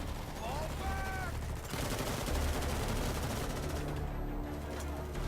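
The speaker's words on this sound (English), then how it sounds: "Why are you shooting at me" Dense, continuous gunfire in the video game Metal Gear Solid V: Phantom Pain, loud bursts of automatic fire with a brief high chirp early on.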